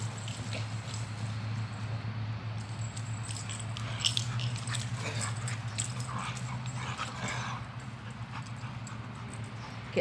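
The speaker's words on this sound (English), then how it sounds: "I'm watching my son's dogs." Several dogs play together, with scuffling, light thumping and occasional faint whimpers and mouthy biting noises running steadily throughout, fairly close, with no talking.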